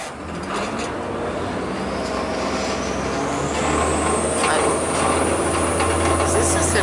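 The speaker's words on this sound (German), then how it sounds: "Guck mal, eine Hochbahn." An elevated railway train in Venice runs with a steady low rumble and rising mechanical whine that grows louder toward the end, heard from inside a moving vehicle with some background noise.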